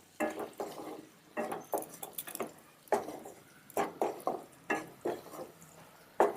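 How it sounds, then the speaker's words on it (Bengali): Spices being stirred and fried together in a pan for a Bengali kochu shak dish with hilsa fish head, giving repeated short scraping and clinking bursts of a utensil against the pan, close and moderately loud, with a faint sizzle between strokes. "এবার আমি সমস্ত মশলাটাকে একসাথে কষিয়ে নেবো"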